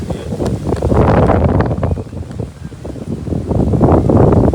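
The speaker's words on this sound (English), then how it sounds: "It's windy as hell there." Strong wind buffets a microphone outdoors at Ko Olina, a continuous loud rumbling roar that swells and dips without a break.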